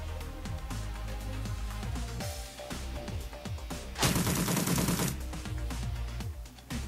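Gunfire in the Shadowrun Returns video game: a dense, loud burst of shots roughly a second long stands out over a continuous game music bed, with other sharp percussive hits scattered around it.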